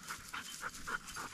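A hunting dog pants steadily in quick, rhythmic breaths during a grouse hunt in the Michigan wilderness, soft but close, with no talking.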